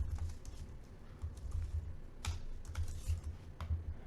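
Typing on a computer keyboard gives a steady patter of soft, quiet key clicks with occasional sharper taps.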